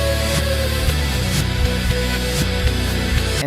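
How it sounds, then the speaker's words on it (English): An AI-generated Suno song plays backwards, its reversed beat swelling into each hit with steady, rhythmic pulses and smeared, sucking-in tones, loud and continuous throughout. "I went to edit, and I went to reverse, so it made the song sound like this."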